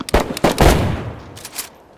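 Gunfire in the video game DayZ, several loud close shots in a quick irregular burst, then fainter follow-up reports as the echoes decay.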